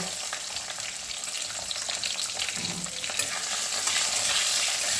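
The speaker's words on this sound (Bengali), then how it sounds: "এই আলুগুলোকে পুরো একদম লাল লাল করে ভেজে নেব" Potato pieces frying in hot oil, a dense, steady sizzle close up with stirring scrapes mixed in, building slightly louder toward the end; no one speaks.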